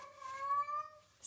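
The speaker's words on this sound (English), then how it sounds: "If you hear my cat in the background," A female cat in heat meows in a drawn-out, tonal wail close by, one sustained caterwaul rising slightly in the middle before trailing off.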